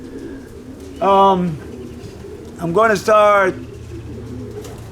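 Pigeons, kept in a loft alongside dark homers and antique homers, give two short cooing bursts, close and fairly loud, while someone talks nearby.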